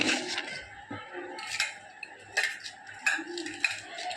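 Potatoes with chili powder are stirred in a pan, giving repeated light scraping and clinking of a utensil against metal, with a few sharper knocks spread across the stretch.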